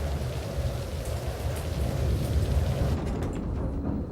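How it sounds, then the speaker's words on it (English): Heavy rain pours down during a thunderstorm at an airport, a dense, steady roar with deep rumbling underneath that continues without a break, loud and close throughout. "Right now we have heavy rain on the airport."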